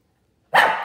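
A single loud, close dog bark bursts in after half a second of silence.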